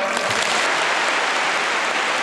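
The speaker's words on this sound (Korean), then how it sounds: "평양 시민 여러분, 문재인 대통령에게 다시 한번 뜨겁고 열렬한 박수를 보내주시기 바랍니다." A large crowd of Pyongyang citizens applauds President Moon Jae-in loudly and continuously at the inter-Korean summit, a dense wash of clapping with no break.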